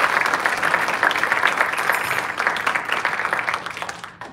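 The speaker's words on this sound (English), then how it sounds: "Come on, let's give him a hand clap." Crowd in a worship service breaks into loud, close applause, many hands clapping in a thick continuous wash that tapers off at the end without any voices.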